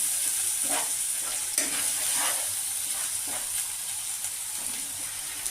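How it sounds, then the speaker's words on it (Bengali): A spice mixture of cumin powder and chili powder fries in a pan, giving a steady soft sizzle broken by several scraping stirs of a utensil. "এবার মশলাটাকে কষতে দেবো"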